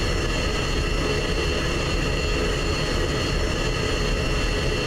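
An F-16 fighter jet taxis in a flight simulator game, its engine a loud, unbroken roar and whine holding steady and close throughout.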